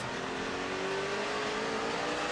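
NASCAR stock cars racing at Martinsville in the 2007 Subway 500, a dense, continuous engine roar from a pack of cars in traffic, with a rising pitch as one car accelerates past.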